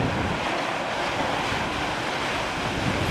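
A big, tall ocean wave breaks in stormy seas along the coast at Watchet. It makes a loud, steady roar of surf mixed with wind noise, close by, with no voices.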